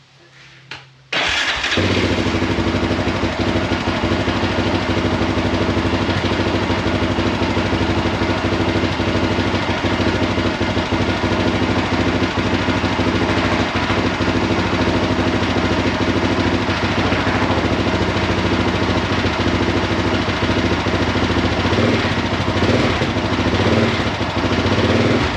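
A 2001 Yamaha Raptor 660R ATV, a worn machine burning oil with a choke that won't stay on, fires up after a brief sputter and then runs steadily and loudly at close range, a rough, throbbing engine note holding without a break.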